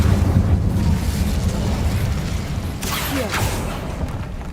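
The Incendio fire spell being cast in Hogwarts Legacy, a loud rushing, roaring burst of flame with a low rumble that holds steady before a brief crackling flare near the end.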